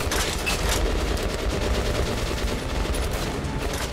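Gunfire in the video game Metro Last Light, a dense continuous stream of rapid shots and booms, loud and close, with no talking.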